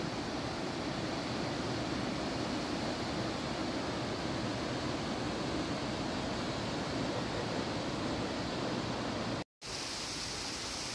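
Gum waterfall in Lamjung, Nepal, a dense steady roar of falling water, constant and loud throughout, cut by a brief dropout near the end.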